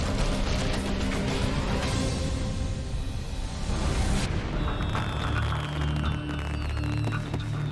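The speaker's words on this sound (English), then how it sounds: "These ground-shaking fireworks are in the process of obliterating an entire Danish neighborhood." Ground-shaking explosions at a fireworks factory tear through a Danish neighborhood, a continuous loud rumbling roar of booms with no pause.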